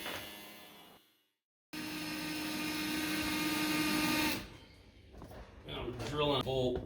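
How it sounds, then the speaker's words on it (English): A power drill bores into a steel bolt during van repair work, a loud steady high-pitched whine that cuts out briefly, resumes, then winds down, followed by scraping and clattering metal sounds. "I'm drilling a bolt, which is not fun."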